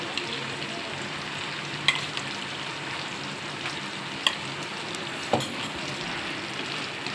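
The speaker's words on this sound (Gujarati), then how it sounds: "છૂટા વઘાર કરવા માટે બાફેલા મગ સારા રહે, એટલે બાફેલા મગ થોડામાં નાખીશ" Boiled mung beans sizzle in a hot tempering, a steady close frying hiss with a few sharp pops and clicks of the spoon, no talking.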